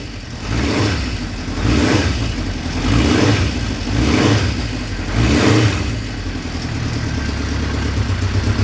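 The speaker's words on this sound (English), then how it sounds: "And that's a cold start up." A 1972 Honda CB500/4 four-cylinder motorcycle engine starts cold and idles, its steady throb swelling and easing in rhythmic surges as the revs rise and fall, close and alone.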